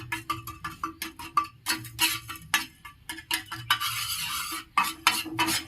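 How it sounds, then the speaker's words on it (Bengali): A utensil stirs black salt into lassi in a brisk, rhythmic run of scraping and clinking strokes against the vessel, close and distinct. No one speaks. "বিট লবণ কিছুক্ষণ নাড়াচাড়া করে নেব"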